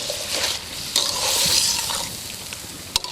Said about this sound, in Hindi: थोड़ी देर के लिए चिकन को मैंने अदरक और लहसुन के पेस्ट में भून लिया है।